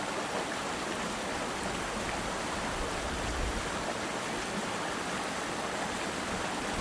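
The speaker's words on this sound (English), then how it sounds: "you can hear the waterfall over here down the hill" The 75-foot South Branch Oromocto Falls pours steadily in the distance down a hill, a soft continuous wash of falling water with no voices.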